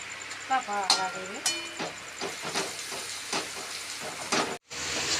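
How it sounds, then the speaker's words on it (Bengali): Onion and garlic frying in hot oil for a tadka give off a continuous soft sizzle and hiss, with a few stirring clinks, under a woman's speech close by. "এবার রসুনটা একটুখানি ভাজা হবে।"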